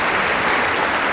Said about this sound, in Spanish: ¡Aplauso para nuestro Señor Jesucristo!